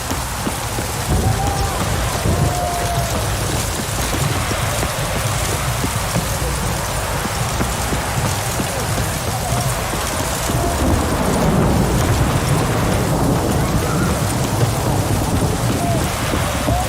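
Steady heavy rain hisses continuously, with a deep low thunder rumble underneath, a storm in the video game The Witcher 3.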